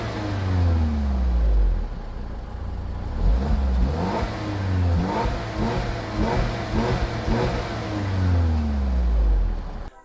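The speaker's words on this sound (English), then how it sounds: "even though it just has one muffler, it sounds so good" A 2022 Peugeot 3008 SUV engine revs repeatedly through its single-muffler exhaust, rising and falling in several surges over a low, steady idle rumble.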